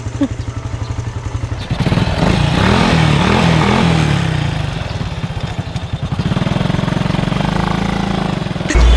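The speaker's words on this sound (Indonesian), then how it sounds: "minimal motor kamu tuh yang berkopling kayak gini, Cid." A clutch-type motorcycle engine idles with a rough, throbbing putter, then revs louder and settles back, running close by throughout.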